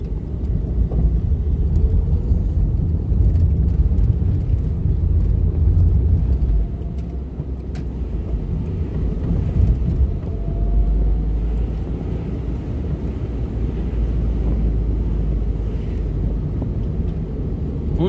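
A car pulls away during a driving lesson, its low engine rumble steady and close from inside the cabin, swelling early and then settling into a continuous drone.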